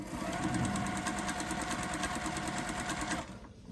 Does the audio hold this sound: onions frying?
no